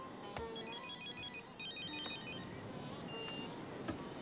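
Telephone ringtone trilling in repeated electronic bursts at moderate distance, a few rings with short gaps over a quiet room background, no talking.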